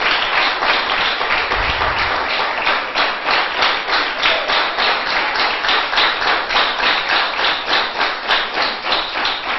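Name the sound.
congregation applauding in church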